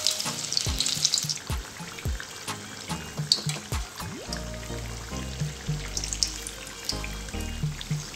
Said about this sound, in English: Fry all the remaining capsicum bhajiyas similarly.